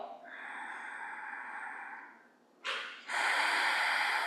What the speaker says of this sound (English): Ujjayi, which means victorious breath.